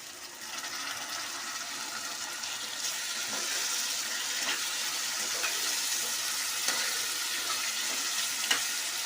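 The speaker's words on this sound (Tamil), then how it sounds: "வெங்காயம், தக்காளி எல்லாம் நல்லா வதங்கிடுச்சு." Onion and tomato sauté in a pan, giving a steady, close, watery sizzle and hiss that runs throughout, with faint scrapes of stirring now and then and no voices.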